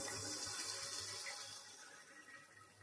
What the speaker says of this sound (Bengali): এবার জলটা আস্তে আস্তে দিয়ে দিলাম, যেহেতু পাতলা ঝোল করবো 10টা ডিমের